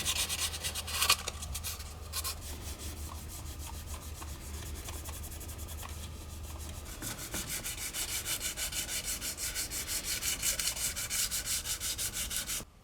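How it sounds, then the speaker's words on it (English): Metal surfaces on a BMW Z4 3.0si engine scrubbed with a microfiber cloth, Scotch-Brite and very fine sandpaper: steady close rubbing and sanding strokes, growing into fast rhythmic back-and-forth scraping in the second half. "Firstly, a microfiber cloth, then Scotch-Brite, and finally a sheet of very fine sandpaper to remove the final stubborn remnants"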